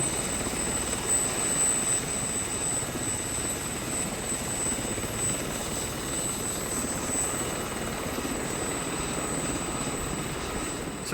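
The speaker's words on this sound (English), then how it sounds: "Somehow, I don't think these choppers were designed with heliskiing in mind." A helicopter flies over a volcano slope in Kamchatka, its dense rotor and engine roar loud and continuous, heard alone without any talk.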